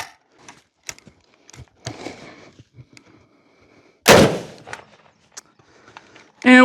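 Two sharp, loud Ruger Mini-14 rifle shots crack outdoors at a range several seconds apart, with quieter handling clicks and rustles in between.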